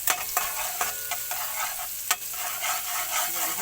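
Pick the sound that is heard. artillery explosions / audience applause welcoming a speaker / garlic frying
garlic frying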